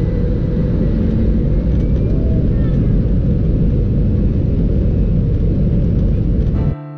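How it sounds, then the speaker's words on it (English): Airbus A320 engines run at full thrust during the takeoff roll, a loud, constant low roar heard from inside the cabin that cuts off abruptly just before the end. "our pilots engaged full thrust on this Airbus A320 as we headed down the runway"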